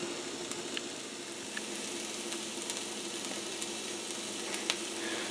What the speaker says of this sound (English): So this is starting to cook. The bread starting to cook